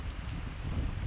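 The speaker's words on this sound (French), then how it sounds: "Et on a le vent de face," Strong headwind buffets the microphone on a deserted island, a continuous low roaring rumble that fills the short moment without any other sound.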